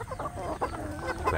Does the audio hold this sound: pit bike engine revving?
no